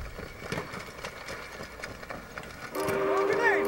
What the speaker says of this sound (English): An enemy armored train has arrived.